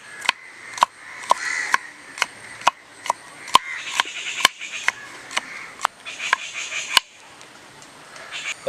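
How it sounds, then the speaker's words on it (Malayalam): Garlic chopped finely with a knife on a board at an outdoor camp cooking spot, a steady series of sharp crisp taps roughly every half second, fairly close and clear. "ഇത് വെളുത്തുള്ളി നമുക്കൊന്ന് പൊടിയായിട്ട് അരിയാം."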